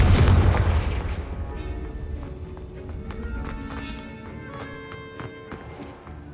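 A Confringo fire spell goes off in Hogwarts Legacy, opening with a loud booming burst that fades into a rumbling tail, dotted with scattered clicks and small impacts as the game continues.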